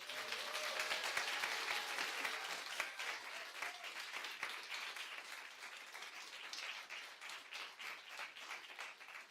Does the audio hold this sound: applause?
yes